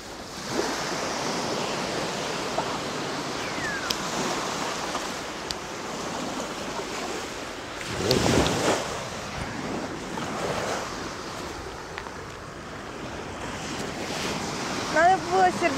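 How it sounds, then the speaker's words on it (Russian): Sea waves breaking and washing up on a winter beach in Valencia, Spain, with steady surf roar, a louder surge midway, wind buffeting the microphone, and faint voices at times. "Все, до первой большой волны. И сразу смоется."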